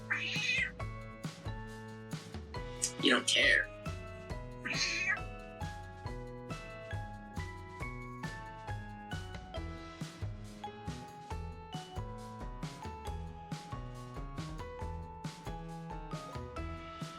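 A tiny, angry cat meows three or four times in short, insistent cries over steady background music, with a person speaking briefly.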